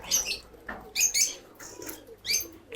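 Pigeons in a loft give repeated soft cooing calls in short bursts with brief pauses, close and moderately loud, mixed with light shuffling and flutter, and no one speaking.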